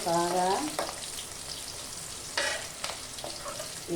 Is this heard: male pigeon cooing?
no